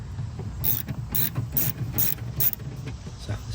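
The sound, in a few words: ratchet removing nut from SOK battery terminal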